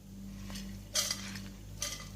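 Dry moong dal is tipped into a pot on a low flame for roasting. Two short rattling bursts of grains land a moment apart over a quiet, steady background hum.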